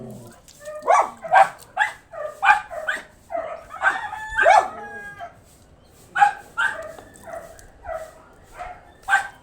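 A rooster crows repeatedly among clucking chickens at a home yard in the morning, loud and near, with the calls coming in rhythmic bursts and short pauses and no one talking.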